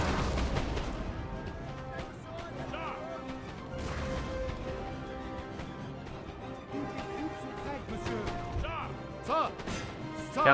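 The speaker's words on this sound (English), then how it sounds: "Cannons." Cannon and musket fire booms repeatedly across a Napoleonic battle in Napoleon Total War, irregular heavy thumps and cracks layered over constant battlefield din, with a louder burst near the end.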